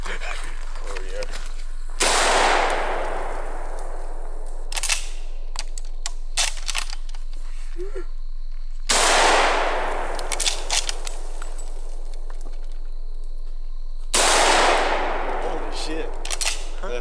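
Gunfire from the video game Fallout New Vegas: three sharp, booming shots spaced several seconds apart, each followed by a long decaying echo, with faint clicks and clanks in between.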